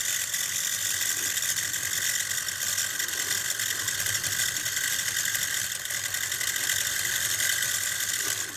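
A Stellaphone ST450 reel-to-reel tape recorder motor runs steadily with a dense, noisy mechanical whir and faint ratcheting clatter, constant and close throughout with no talk.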